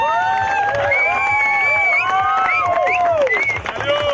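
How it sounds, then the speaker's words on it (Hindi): Crowd at a sports league closing ceremony cheering and clapping, with high shouts and whistling voices over a steady bed of applause, fairly loud and continuous. "जोरदार तालियों के साथ इनका अभिवादन करें"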